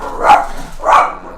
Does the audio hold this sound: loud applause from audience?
no